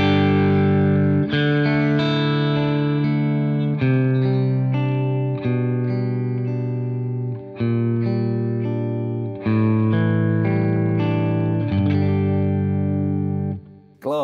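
Electric guitar played through a Budda V20 SuperDrive two-channel amp, sustained chords and ringing notes with a warm, slightly overdriven tone, loud and close, with short pauses between phrases.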